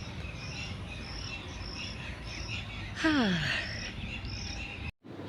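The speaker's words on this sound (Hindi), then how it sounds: "पक्षियों की आवाज़ आ रही है आपको?" Outdoors on a morning walk, a steady wash of insect-like trilling and bird chirps fills the background, with one brief descending whistled call standing out midway and a short spoken word near the end.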